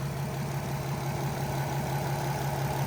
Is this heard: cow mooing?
no